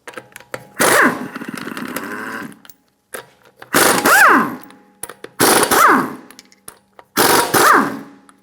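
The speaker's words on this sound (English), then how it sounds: "Using a 19mm socket, remove the lug nuts." Honda Accord lug nuts spun off with a 19mm socket on a power tool: four loud, close bursts of motor whine and rattling, the first long and steady, the next three short with rising and falling pitch, separated by brief pauses.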